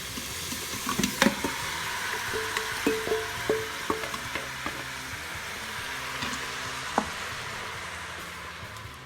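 Diced chuck steak browning in a pot for chili, a steady loud sizzle with occasional stirring scrapes and knocks against the pot.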